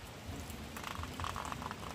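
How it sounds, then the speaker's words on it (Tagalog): Soft, steady patter of light drizzle, a faint continuous hiss with scattered tiny drops, close by and without any voices. "Nagpanay po ang ambon."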